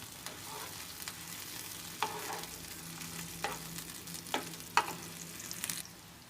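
Omelette mixture fries quietly in a pan with a soft, steady sizzle, broken by a few sharp clicks and taps as it is stirred; no voices.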